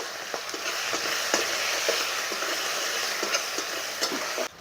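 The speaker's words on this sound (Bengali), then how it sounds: "এখানে দুটো মিডিয়াম সাইজের পেঁয়াজ নিয়েছি পেঁয়াজটা ভেজে নেব" Onions sizzling in oil with a pinch of cumin and chilli in a pan as the base for a croaker fish curry: a steady close broadband hiss with small crackles and occasional stirring clicks, no talking.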